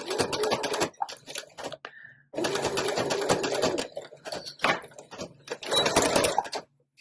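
A sewing machine runs in rapid stitching bursts, stopping and starting three or four times with short pauses between runs.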